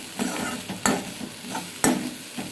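Tomatoes for pirandai chutney sauté in a pan, a gentle steady sizzle broken by a few sharp scrapes of stirring, close up with no talking.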